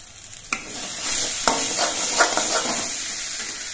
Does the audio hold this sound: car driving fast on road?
no